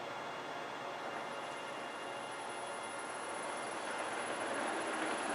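A Rover R380 gearbox spins under motor drive on a load test rig, a steady broadband mechanical whir with a faint high whine, even and continuous throughout at close range.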